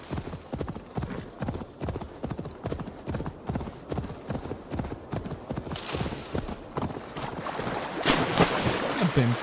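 Horse hooves clip-clop in a steady rhythmic gait in Assassin's Creed Valhalla, close and clear, with a faint watery wash and a louder swell near the end.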